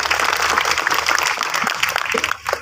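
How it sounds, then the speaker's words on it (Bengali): Loud, dense applause from a crowd at an Eid reunion and achievers' reception ceremony, steady for about two seconds before thinning, then a final short burst. "জোরে হাততালি।"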